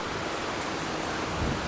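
A creek running beside a wooded disc golf hole in Coppell, Texas, a steady close rush of flowing water with no talk.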